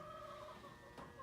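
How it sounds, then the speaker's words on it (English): Chickens cluck steadily in the background of a backyard garden greenhouse with a polycarbonate roof, a soft ongoing chatter of hens with no talk over it. "You can hear the chickens in the background."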